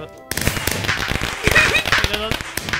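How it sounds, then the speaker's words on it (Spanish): Fireworks rockets thrown in the Roblox game Rainbow Friends, a burst of sharp crackling pops and bangs mixed with game noise and an excited voice talking over it. "Te tiro cohetes porque no me encuentras."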